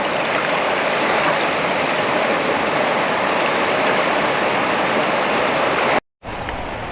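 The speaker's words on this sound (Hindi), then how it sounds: "गंगा जी की कलकल करती आवाज़" Ganges river water rushing steadily at Rishikesh, a dense continuous roar of flowing current that holds loud and even for about six seconds, then cuts off briefly before resuming.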